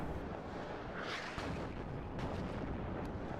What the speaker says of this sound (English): We'll just watch all of these guys laugh at the incoming artillery.